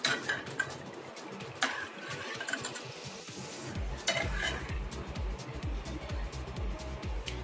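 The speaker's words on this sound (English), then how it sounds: "We will stir this continuously." A chocolate cake mixture is stirred continuously in a pot, with a steady scraping and clinking of spoon against metal, irregular knocks and rattles throughout, fairly close and moderately loud with no talking.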